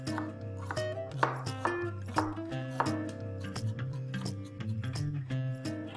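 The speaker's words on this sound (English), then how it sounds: "let's quickly slice a red onion." A knife slices through a red onion on a cutting board, giving a quick series of crisp chopping taps at an irregular rhythm, close and clear.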